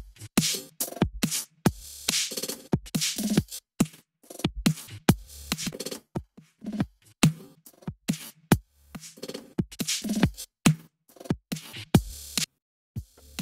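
A glitchy drum beat built in Ableton from copied and rearranged slices. Sharp, choppy hits and bursts cut off abruptly into silence in an uneven, stuttering rhythm. Nothing else plays and no one speaks.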